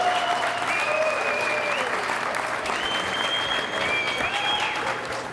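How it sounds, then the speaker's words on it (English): An audience applauds the men's handball finalists at the 2017 USHA Nationals, a sustained, even round of clapping filling the space, with faint whistles or tones threading through. "let's give these guys another round of applause"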